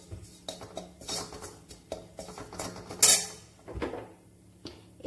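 Turmeric and salt being stirred in a pan, with repeated metal clinks and scrapes of a utensil against cookware in an irregular rhythm, close and moderately loud, with no talking.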